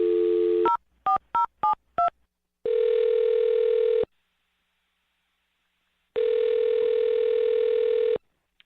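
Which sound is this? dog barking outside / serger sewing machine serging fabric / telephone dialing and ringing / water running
telephone dialing and ringing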